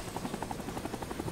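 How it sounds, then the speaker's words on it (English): Helicopter in a Vietnam War era video game, its rotor thumping in a fast steady pulse close by, loud and unbroken, with a heavier thump near the end. "Get the fuck out of my helicopter."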